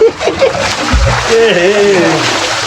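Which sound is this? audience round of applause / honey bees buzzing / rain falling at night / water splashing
water splashing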